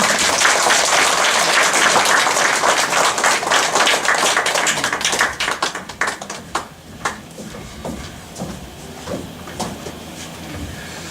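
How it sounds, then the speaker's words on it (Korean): A church congregation breaks into loud, dense applause to welcome a guest speaker, sustained for several seconds before thinning into scattered, tapering claps and ending in a few isolated hits. "우리 사랑과 축복의 박수로 맞이하겠습니다"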